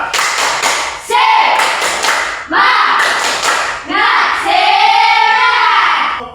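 A group of students performs a rhythmic spirit clap: bursts of quick, unison clapping alternate with loud shouted chants, repeating in a steady pattern.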